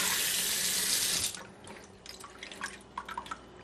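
Lukewarm tap water pours into a home kitchen sink while a prime rib is rinsed, a steady close rush for a second or so that breaks into scattered splashes and drips, with no voices.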